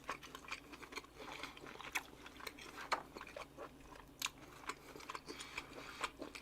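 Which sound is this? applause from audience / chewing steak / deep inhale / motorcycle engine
chewing steak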